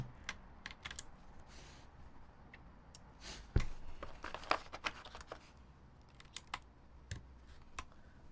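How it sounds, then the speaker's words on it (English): Mechanical keyboard keycaps pressed down one after another, giving a close, sparse string of light clicks and clacks with a single heavier knock partway through, in an otherwise quiet room with no talking. "I'm straight up just shaving these keycaps right now just by pressing these down"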